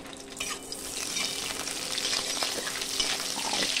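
A bay leaf, cumin seeds and green chillies hit hot oil in a heated kadai, giving a loud, continuous sizzle and crackle that builds and stays steady, with no talking.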